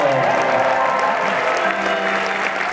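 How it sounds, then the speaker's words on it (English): Audience applause at a Winter Jump 2020 dance event, a steady, full round of clapping from a crowd, with a faint sustained tone underneath. "A big round of applause."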